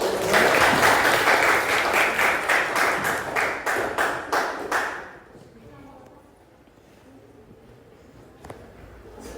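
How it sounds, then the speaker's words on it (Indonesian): A classroom group in Indonesia applauds before a group presentation, loud rhythmic clapping in roughly unison beats for about five seconds, then fading to a quiet room with faint voices. "Beri tepuk tangan dulu"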